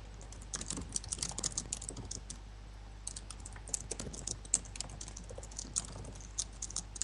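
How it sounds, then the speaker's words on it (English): Someone types quickly on a computer keyboard, with dense bursts of sharp key clicks and brief pauses over a low steady hum. "Well, you know who's typing."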